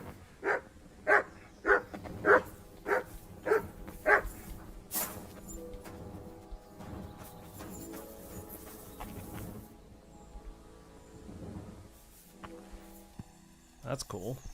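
In the Kingdom Come: Deliverance 2 video game, a dog gives a run of six evenly spaced barks at the start, then goes quiet under soft ambient game sound and faint music, with a brief sharp sound at the very end.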